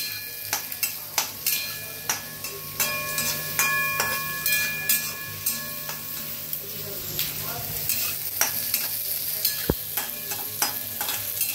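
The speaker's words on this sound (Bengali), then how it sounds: "পেঁয়াজ রসুন, মাছটা বেছে নিয়েছি, পেঁয়াজ রসুন সর্ষের তেলে আমি একটু ফ্রাই করে নিচ্ছি।" Onion and garlic fry in mustard oil with picked fish for a fish cutlet filling, a close steady sizzle broken by regular rhythmic ticks of a spatula stirring against the pan.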